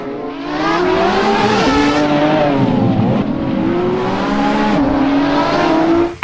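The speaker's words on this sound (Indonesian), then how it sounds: "Wih, ini ada mobil balap." A toy race car plays a revving engine sound, a loud electronic vroom rising and falling in pitch continuously for several seconds, alone without talk.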